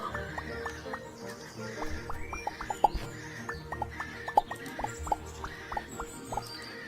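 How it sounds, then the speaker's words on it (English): Birds chirp in the Starbound video game, with short bright calls repeating at an uneven pace over a soft, steady ambient background at moderate level. "Bird sounds."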